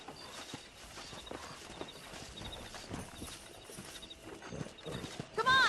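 A herd of wild horses in the Red Dead Redemption video game, with hooves clip-clopping in an uneven run across the ground, rising closer toward the end where a horse whinnies loudly.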